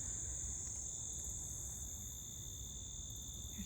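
Crickets chirp in a steady, high-pitched drone that holds constant throughout, faint and distant with no voices.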